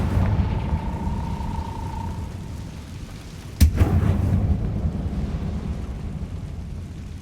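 A Confringo explosion spell goes off in Hogwarts Legacy: one sudden sharp blast midway, followed by a rumbling tail over a steady game ambience with a faint tone early on.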